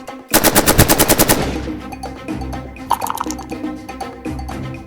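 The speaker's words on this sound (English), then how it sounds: "Razor took aim at the Marauder with his railgun, unleashing a barrage of metallic death into Ulrich" Sci-fi railgun barrage sound effect for a Warcaster tabletop battle report: a loud, rapid burst of about a dozen metallic gunshot-like blasts, followed by quieter rattling, clanking aftershots and debris.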